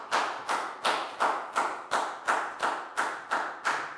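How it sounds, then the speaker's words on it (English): Rhythmic clapping during a Year 4 math lesson, about ten evenly spaced, sharp claps at a steady beat, close and fairly loud with no talking. "High five and a big round of applause for Pat,"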